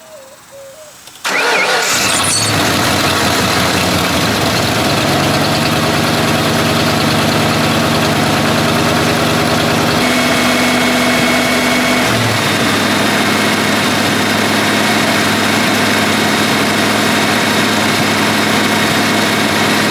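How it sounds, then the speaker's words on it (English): A 1993 Ford Bronco with a 302 V8 and a suspected air leak cranks and catches, then holds a loud, steady high idle that never settles down, with a slight shift in pitch partway through. "As you guys could probably tell from that clip there, the idle is pretty high. It's not coming down."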